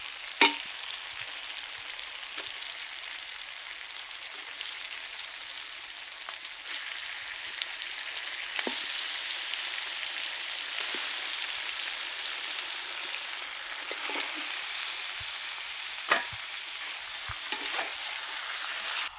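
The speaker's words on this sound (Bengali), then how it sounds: "আমি এই মাংসটা এবার দিয়ে দিচ্ছি, দিয়ে ভালো করে কষিয়ে নেব।" Chicken pieces frying with spices in a pan for kosha, a dense continuous sizzle with occasional spatula scrapes and stirring knocks, close and steady with no talking.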